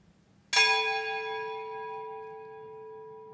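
The Lutine bell is struck once at a Lloyd's of London Remembrance Day ceremony in 2018, a single clear toll that rings out alone after near silence and decays slowly over several seconds.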